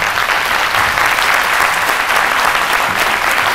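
Studio audience applause on a French-language television talk show set, dense and loud steady clapping from a crowd filling the whole stretch without pause.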